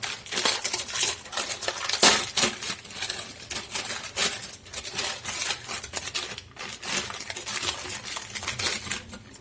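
Continuous crinkling and rustling of a plastic instant noodle packet being handled and torn open, close up, with scattered sharp crackles and no talking.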